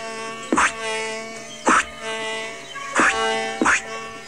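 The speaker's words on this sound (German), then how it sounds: "Verflixte Fliegen." Cartoon flies buzzing steadily in a German animated children's series, a continuous droning hum broken by four short louder swells, with no voices.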